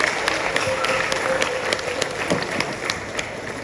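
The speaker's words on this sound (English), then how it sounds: "A round of applause for them, please." An audience claps for newly appointed Justices of the Peace at a high school graduation ceremony, a lively burst of many hands with individual claps standing out, continuing steadily throughout.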